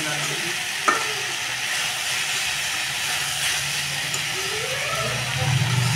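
Sweet pumpkin frying in a pan, a steady close sizzle and hiss with intermittent scraping from stirring, a few sharper knocks of the utensil, and a voice speaking faintly underneath.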